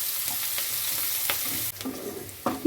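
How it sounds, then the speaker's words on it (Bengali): A brief stretch of onions frying golden brown in hot oil, a steady sizzle with a few soft stirring scrapes and a clunk near the end, no talking. "পেঁয়াজটা গোল্ডেন ব্রাউন করে ভেজে নেব।"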